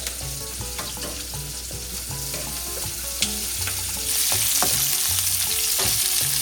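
Onions, green chillies and garlic frying alongside garam masala in a pan, a steady loud sizzle with repeated metallic scraping and stirring knocks, rising a little in intensity toward the end, no speech.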